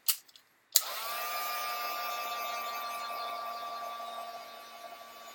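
A handheld heat or air tool blows steadily over a layer of craft paint on a mixed media Christmas altered frame, starting after a brief click and running as a loud, even whirring hiss that holds steady to the end.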